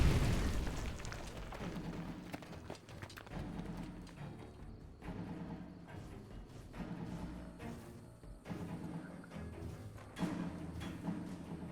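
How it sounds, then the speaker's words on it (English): A large explosion at the finale of the video game Fallout: New Vegas, with heavy booming rumble and repeated bursts through a loud, dense stretch, swelling again near the end. "have the explosion."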